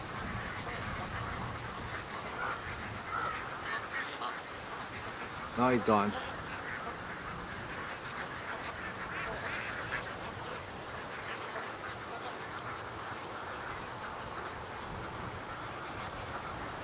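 Ducks quacking around a swamp at night, unsettled by a loon, a short burst of loud quacks midway over a low background hum with quiet voices talking.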